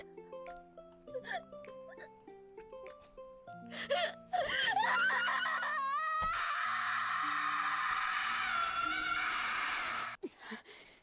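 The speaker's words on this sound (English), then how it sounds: "in the first episode with Emma's scream" In a subtitled anime episode of The Promised Neverland, a girl lets out a long, raw, sustained scream over soft background music, loud and anguished, with gasps just before it.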